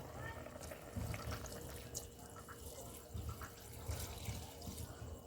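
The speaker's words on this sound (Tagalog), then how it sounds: "At magdagdag tayo ng tubig." Water runs and splashes steadily into a cooking pot of chicken tinola soup, a soft continuous pouring sound with faint clinks, fairly quiet and close.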